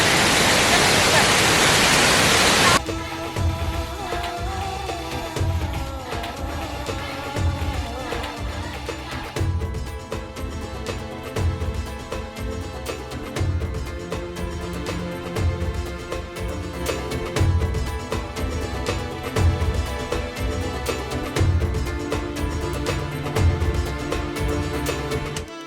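Kalu waterfall in Malshej Ghat roars as a dense, continuous wash of falling water, loud and close, with an opening burst of full-band spray noise before settling into a steady rushing bed; faint voices may be present beneath it.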